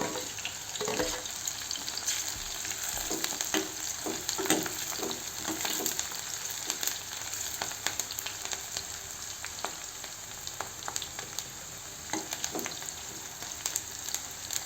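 Chopped onions and green chillies fry in a pan, giving a continuous soft sizzle with occasional stirring scrapes, moderately quiet and steady, with no talking.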